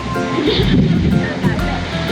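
Surf rolls and crashes in a steady roar at high tide on Boracay Beach, with wind buffeting the microphone, and a few voices murmur faintly in the background.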